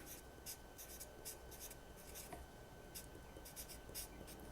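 An equation being written out by hand, with steady, faint scratchy pen strokes in short repeated bursts against a low background hiss.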